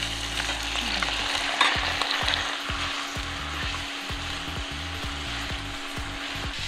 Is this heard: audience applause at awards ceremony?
no